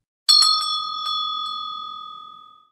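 A small bell is struck in a quick cluster of bright rings, then one long clear tone decays slowly into silence, heard alone and close.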